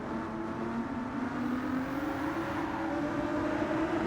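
A Ford GT's engine in Gran Turismo 7 holds a steady, droning roar, its pitch climbing slowly as the car accelerates, loud and unbroken with no talk over it.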